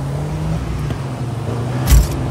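A getaway car in the video game Just Cause 4 drives with a steady engine drone and road noise, holding an even level with a brief louder burst near the end.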